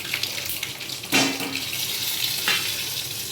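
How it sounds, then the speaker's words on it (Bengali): Lightly boiled sweet potatoes go into a hot pan, setting off a bright, watery sizzle that hisses steadily, with two sharper bursts as pieces hit the oil. "তারপর দিয়ে দেবো একটু হালকা সেদ্ধ করা রাঙা আলুগুলো"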